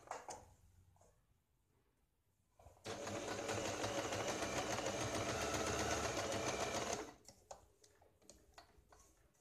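A sewing machine runs steadily for about four seconds stitching a blouse, a dense mechanical whir between quieter stretches of faint ticking and handling clicks at either end.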